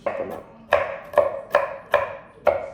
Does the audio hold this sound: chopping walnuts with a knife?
yes